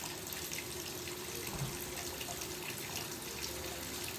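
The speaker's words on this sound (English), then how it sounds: "Machine takes sufficient water and start washing." A Godrej top-load washing machine fills with water, a steady close hiss and splash of flowing water that runs continuously without pause.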